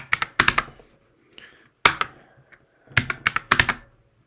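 Quick bursts of clacking keystrokes on a computer keyboard as Rust code is typed, with short pauses between clusters of taps, close and clear.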